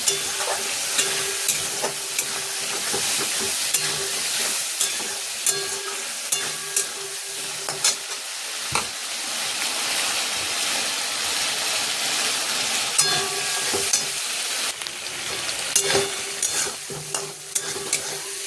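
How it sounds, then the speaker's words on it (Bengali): Green peas sautéing in a hot wok for a home vegetable curry, a steady loud sizzle broken by repeated scraping and clanking spatula strokes, with no talk. "এবার দেব কড়াইশুটি এবার ভালো করে কষাবো"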